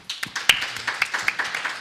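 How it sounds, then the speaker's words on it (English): Applause from a panel event audience, a short burst of scattered hand claps at close range, uneven and thinning out over under two seconds. "Round of applause, please."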